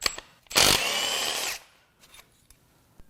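A power tool whirs hard for about a second, backing out the bolt that runs through the timing cover of a 2015 Dodge Ram 2500 5.7 engine. Scattered soft clanks follow in a quiet shop.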